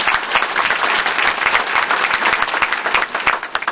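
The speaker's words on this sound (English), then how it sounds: "please give it a big round of applause." A dense, loud round of applause from the audience at a Latina leadership summit, many hands clapping together in a continuous close wash of sound with no voices over it.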